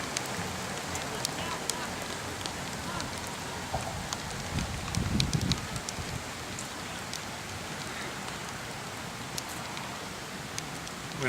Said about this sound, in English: And I am standing in the rain.